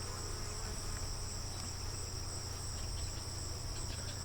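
Honeybee swarm that stayed outdoors overnight after light rain, a dense continuous buzzing hum heard close and steady throughout, with no other sounds standing out.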